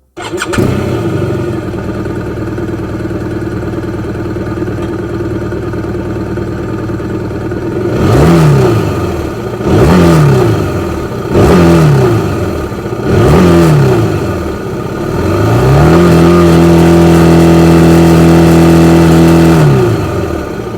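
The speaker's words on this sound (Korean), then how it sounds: "그럼 본격적으로 주행에 앞서 신형 RT의 배기 사운드를 들어보죠." BMW R1250RT boxer-engine motorcycle, 2022 model, starting and idling, then revved in four short sharp throttle blips followed by a longer sustained rev, its exhaust loud and close.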